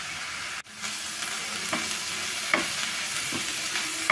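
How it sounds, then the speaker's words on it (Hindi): Whole spices and urad dal are stirred and fried in a pan, a continuous close sizzle broken by a brief dropout and repeated scraping strokes of a spoon, with no speech. "अच्छी तरह से मिक्स करेंगे"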